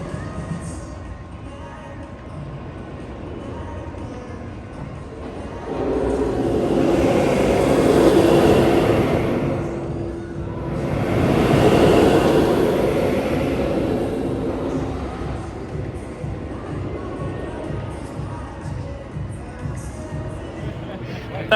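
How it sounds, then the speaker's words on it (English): The Ice Breaker roller coaster at SeaWorld rumbles past twice during night testing, swelling to a loud roar and fading each time, over a steady low background with some distant chatter. "But still running trains very, very quickly."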